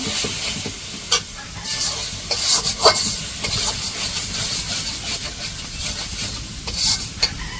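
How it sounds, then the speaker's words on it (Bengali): Ground turmeric, chili, garam masala and salt frying in oil in a pan for chicken curry, a steady loud sizzle and hiss with occasional stirring scrapes, no talking. "মশলাটা কষিয়ে নিব"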